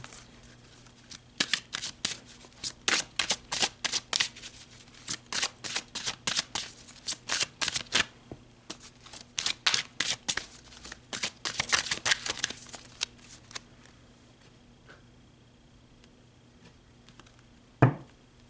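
Tarot cards shuffled by hand in a quiet room, a long series of crisp riffling bursts close up, pausing midway and easing into soft handling at the end.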